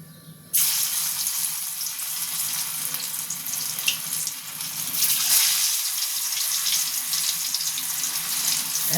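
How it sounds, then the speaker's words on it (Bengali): Lentil and green pea dhoka pieces frying in a pan: a sudden loud sizzle bursts in and holds as a steady bright hiss with small crackles. "এবার আমি ধোকাটা ভেজে নেব।"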